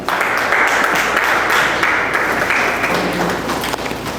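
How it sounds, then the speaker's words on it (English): Audience applause welcoming a guest at a solo painting exhibition, steady dense clapping throughout at moderate loudness with no speech over it. "welcome him with a big round of applause."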